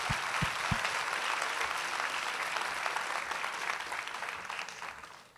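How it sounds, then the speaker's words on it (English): Audience applause after a standing ovation at a talk featuring Sushmita Sen, dense and sustained clapping throughout, fading slightly at the end. "yes, applaud him."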